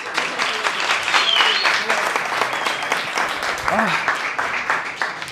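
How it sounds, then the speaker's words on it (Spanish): Audience applause at a live science-of-food show during the Fallas festival, a dense crackle of many hands clapping steadily for several seconds, with a few voices and a short vocal whoop rising through it. "Dadme un aplauso, que tengo sed."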